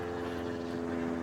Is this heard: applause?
no